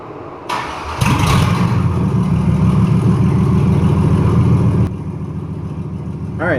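A Chevy short box truck engine cranks and fires after a click, then runs at a loud, steady idle for several seconds before settling lower, close by.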